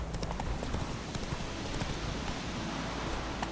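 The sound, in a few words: horse Roach galloping, hooves clip-clopping, from video game Witcher 3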